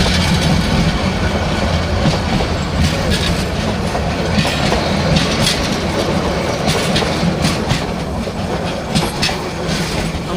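An intercity express train rumbles past continuously and loudly, its wheels clattering rhythmically over the rails with a steady roar throughout.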